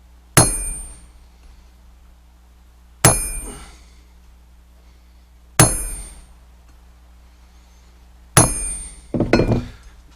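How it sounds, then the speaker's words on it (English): Hammer peening a hardened steel part from a GSG 1911 pistol: four sharp, ringing metallic strikes spaced a few seconds apart, each decaying quickly, the last followed by a brief scraping clatter. "Peening hardened steel is not the easiest thing to do."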